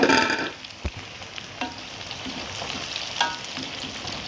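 Tempeh frying in a pan gives a steady hiss and sizzle, with occasional clinks and scrapes of a utensil stirring it.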